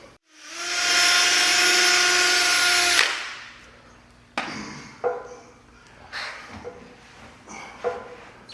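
A headlight lens is power-sanded with 3000-grit sandpaper, giving a steady high whirring drone for about three seconds. It stops abruptly and is followed by scattered clicks and light handling noises nearby.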